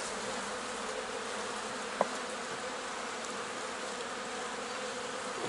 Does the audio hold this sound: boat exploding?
no